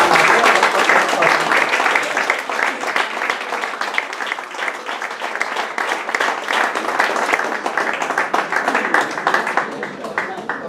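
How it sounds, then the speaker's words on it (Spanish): Loud, sustained applause from an audience at a poetry evening, a dense, continuous clatter of many hands that stays strong for about ten seconds, with a voice or two faintly mixed in. "Un fuerte aplauso para..."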